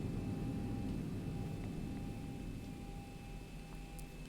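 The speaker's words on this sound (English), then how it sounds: "And we get the airplane rolling" Boeing 737 taxiing in X-Plane 11, a steady low engine rumble and broadband whine with faint tonal hum, continuous and moderately quiet with no talk.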